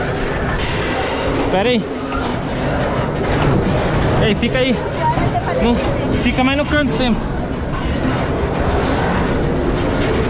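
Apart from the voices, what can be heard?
train passing on rails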